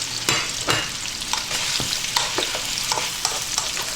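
Chopped pork ribs fry in a pan with cubed onion and are stirred the whole time, a steady loud sizzle broken by frequent scraping strokes of the spoon against the pan, close up with no voices.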